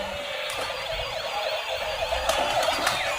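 A toy fire truck's electronic siren wails in a steady, continuous tone with sweeping pitch, loud and close throughout, with no voices over it.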